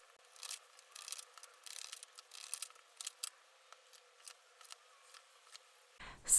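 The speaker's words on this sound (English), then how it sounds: "let's chill while I do the shuffling." Tarot cards being shuffled by hand, a soft papery riffling and rubbing with irregular bursts of card friction, close and fairly quiet, ending in a louder knock or thump.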